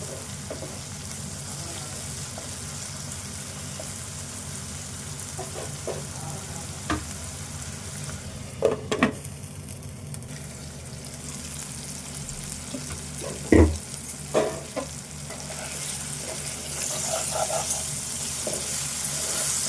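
Goat liver curry fries in a pan with a steady, loud, close sizzle, broken by occasional scraping and knocking as it is stirred, with no talking.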